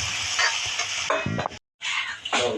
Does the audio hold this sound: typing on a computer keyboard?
no